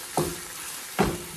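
A spoon scrapes through glossy sauce coating chicken and vegetables in a stir-fry pan over high flame, with two short stirring strokes that set off a steady sizzle underneath.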